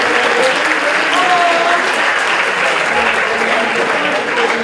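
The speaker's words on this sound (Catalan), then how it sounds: "Per favor, fem-los un aplaudiment." A graduation audience claps loudly and continuously in a hall, with a few faint voices mixed into the steady applause.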